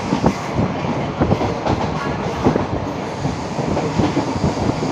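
Moving train in Sri Lanka on the Kandy line, a steady loud rumble of rolling stock with repeated clickety-clack wheel beats over rail joints, heard close from on board with no talk.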